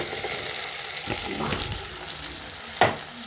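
Bottle gourd and tomato pieces fry in a pan for curry, a steady close sizzle with scraping stirs and one sharp knock of the spoon near the end.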